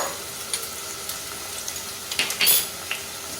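Asafoetida and ginger paste fry in a pan for a one-pot Bengali matar dal. A continuous close sizzle runs throughout, with a few light stirring scrapes and utensil taps near the end.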